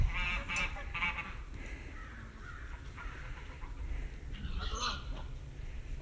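Geese on a farm honk and call in short, scattered squawks, moderately near over a low background rumble, with a few quieter calls between louder bursts and no talking.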